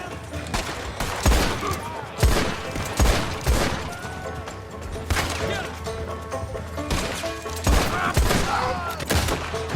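Gunfire in Red Dead Online: repeated sharp gunshots crack in irregular bursts over a busy, cluttered game soundscape, with sustained loud action throughout.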